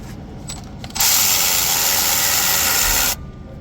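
A hand ratchet works a 10mm bolt on a 2018–2023 Chevy Traverse during a starter replacement, heard as a close, loud burst of rapid clicking that runs for about two seconds after a few faint ticks.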